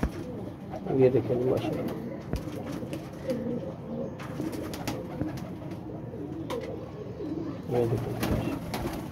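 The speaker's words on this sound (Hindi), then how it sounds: "अच्छे कबूतर है।" Rampuri pigeons, just taken down from a net, coo softly in a low rhythmic murmur, close by, beneath someone speaking throughout.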